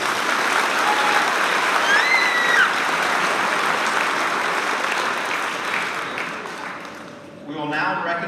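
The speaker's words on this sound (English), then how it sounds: "Let's give them one last round of applause." Audience applause at an 8th grade celebration, sustained clapping from a large crowd with a few whoops, gradually thinning out near the end as a voice comes in over it.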